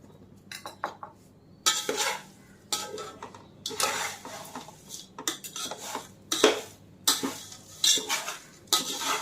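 Spoon stirring a thin-poha chivda mixture with salt in a pan, producing bursts of rustling flakes and clinking metal scrapes in an irregular rhythm, close and fairly quiet.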